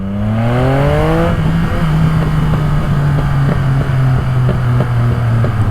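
A Yamaha MT-09 SP sport motorcycle with a Spark full exhaust revs hard, its pitch climbing sharply and then holding a loud, throaty drone up close.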